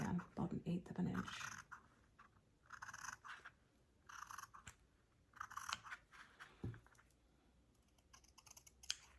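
Scissors snip a small trim off the fabric of a luxury journal cover, producing a few quiet, crisp cuts in short bursts, with brief talk at the start and soft handling sounds between the cuts.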